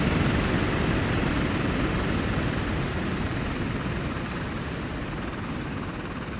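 An F-16 fighter jet in a flight simulator game gives a steady, loud broadband roar of engine and wind noise, constant throughout and easing slightly toward the end.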